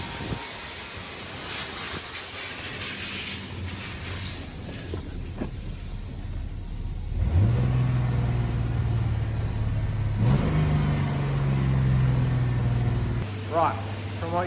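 EF Ford Falcon engine running and idling high, its steady drone entering partway through and then stepping up to a higher, sustained pitch without settling back, after a stretch of hiss and muffled background noise.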